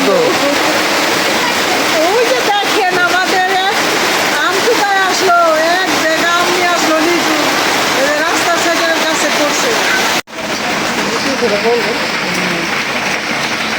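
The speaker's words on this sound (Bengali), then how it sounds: "একদম সেই লেভেলের বৃষ্টি হচ্ছে এখন যেটাকে বলে আষাঢ় মাসের যে বৃষ্টিটা হয়" Heavy monsoon rain pours in a dense, constant roar, drumming loudly on a tin roof, with a person speaking underneath and a brief dropout near the end.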